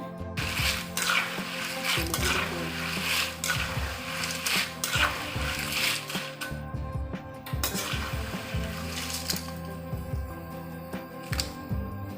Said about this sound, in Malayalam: ഇപ്പോൾ ഇത് ഒന്ന് നന്നായിട്ട് എണ്ണയിൽ കിടന്ന് ക്രിസ്പി ആയിട്ട് വന്നിട്ടുണ്ട്